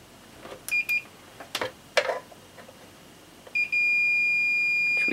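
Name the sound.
multimeter continuity test beep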